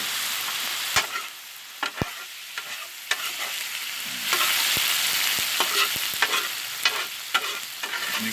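Japanese fried rice sizzles on a Blackstone griddle with soy sauce added, a continuous hiss broken by sharp metal spatula taps and scrapes at irregular intervals, with the sizzle swelling louder midway; no talking.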